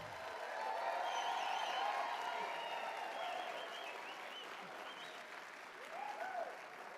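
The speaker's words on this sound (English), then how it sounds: "let's give our Teachers of the Year one more round of applause." An audience applauds Teachers of the Year at a district awards ceremony, with steady moderate clapping, some cheers and whoops, and faint voices mixed in.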